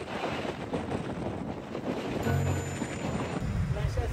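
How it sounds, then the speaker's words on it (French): Strong wind buffets the microphone on a street in England, a steady loud rumble throughout, with faint voices underneath. "il y a trop de vent là"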